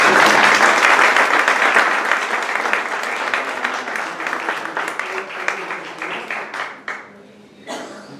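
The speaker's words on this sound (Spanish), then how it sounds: "Yo pido un aplauso para la Encantada" A crowd applauds at a members' day gathering, loud sustained clapping that gradually thins out, with a few scattered claps and faint voices lingering toward the end.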